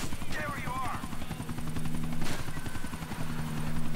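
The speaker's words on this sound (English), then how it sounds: "I want to see if I can drive the chopper." A helicopter in the video game GTA 4 thumps with rapid rotor chops and a whining hum, steady and close, while someone talks over it.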